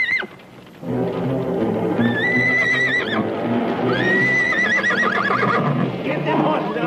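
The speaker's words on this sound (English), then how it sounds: "Get them horses out first." Horses in an old Wild West action film whinny loudly over and over, with shrill neighs rising above busy rumbling background noise and clopping hooves.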